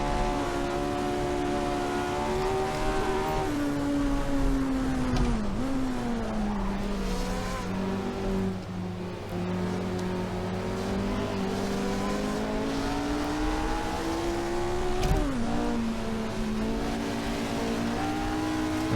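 A 1967 Grand Prix race car from the Silverstone layout in Assetto Corsa roars steadily at high revs, its engine pitch rising and dipping through gear changes, loud and continuous with faint tire squeal mixed in.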